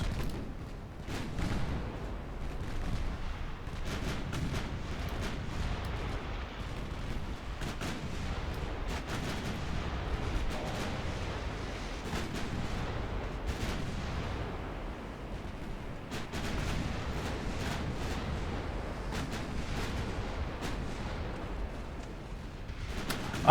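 Warship guns in a naval video game boom again and again in repeated heavy blasts and rumbling salvos, with sharp transients scattered irregularly across a continuous low battle rumble, loud and with no voices.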